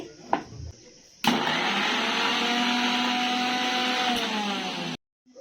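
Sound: mixer grinder grinding tamarind

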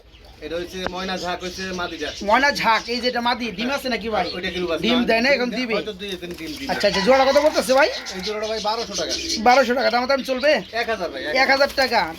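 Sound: pigeons cooing

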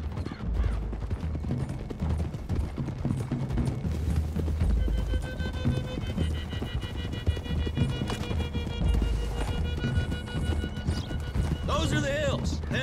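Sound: horses galloping in a video game

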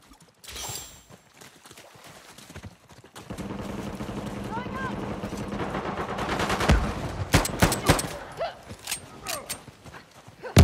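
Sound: gunfire in video game Uncharted 4

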